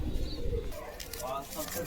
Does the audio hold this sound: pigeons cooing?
yes